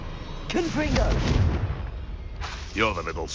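Confringo blasting curse in the Hogwarts Legacy video game, a burst of booming, thudding impacts with crackling fire over about a second, then a second blast, mixed with voices talking in the game.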